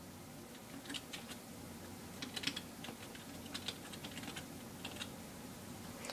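Keys clatter in irregular bursts of typing on a computer keyboard, moderately close but fairly quiet over a steady low hum, with no voices.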